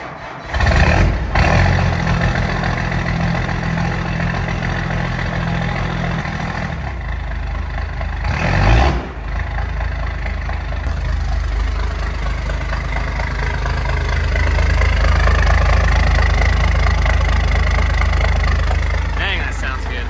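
A 12-valve Cummins diesel in a 1993 Dodge W350 truck runs loud and near, a steady low clattering rumble that swells toward the end, with someone talking over it and a couple of brief bursts of other noise.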